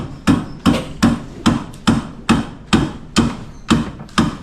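Steady hammer blows from a mason's hammer, about ten sharp strikes at an even pace, close and loud, each with a short ringing decay.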